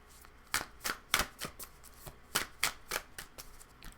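Tarot cards being shuffled and drawn, with a series of sharp, close card riffles and slaps in an irregular rhythm, fairly quiet overall with no talking.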